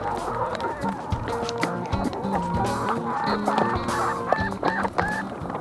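A flock of chickens on a chicken farm clucks and murmurs contentedly and continuously, close by, with overlapping soft calls and occasional louder squawks.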